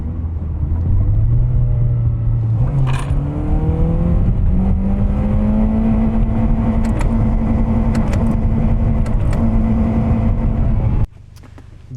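A Toyota Corolla engine revs steadily in low gear, its note rising gradually from a low drone to a loud sustained whine for about eleven seconds, then cutting off abruptly as the engine is switched off.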